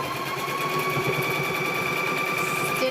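A sewing machine runs steadily as it stitches quilt squares together, a continuous close whirring hum with a faint high whine, unbroken for the whole stretch with no voices.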